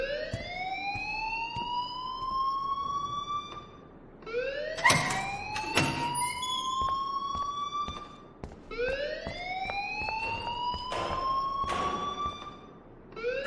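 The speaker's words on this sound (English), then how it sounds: "please turn off that alarm since that's your job" A school alarm in the Life is Strange video game wails in loud rising electronic sweeps that repeat about every four seconds, with a few sharp clanks breaking in between the sweeps.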